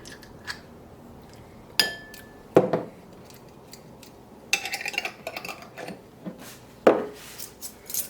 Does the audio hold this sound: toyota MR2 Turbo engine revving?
no